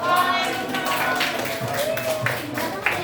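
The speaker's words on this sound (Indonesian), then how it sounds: "Ya, itu tepuk tangan buat kelompok 2." Classroom applause for a student group presentation, a steady wash of many hands clapping at moderate loudness, with children's voices and chatter mixed in throughout.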